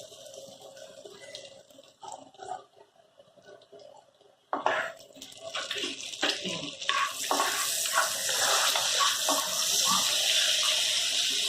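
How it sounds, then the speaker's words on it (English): Lime juice poured into a pan of fried fish in creamy lemon butter sauce, with quiet handling clatter first and then a sudden steady splashing pour that swells and continues to the end, no voices. "we are going to add some lime juice"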